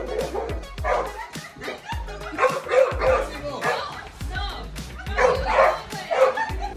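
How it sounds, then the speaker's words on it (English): A dog barks and yips at sparklers burning on a girl's birthday cake, a string of sharp, close barks with whimpering between them, while people talk and react nearby. "This dog did not like the sparklers on this girl's birthday cake."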